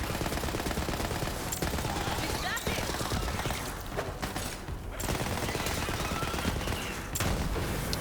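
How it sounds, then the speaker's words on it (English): An SMG in the Borderlands video game fires in long, rapid automatic bursts, a steady loud rattle of gunfire that runs almost continuously with only brief pauses. "I kind of like this SMG actually."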